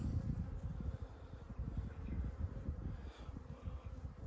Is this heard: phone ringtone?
no